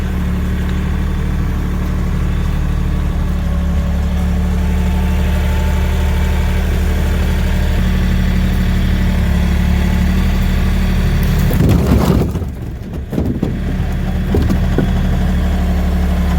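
A brand-new Bobcat tractor engine idles steadily and loudly, a constant low rumble with a brief clunk and shift near the end.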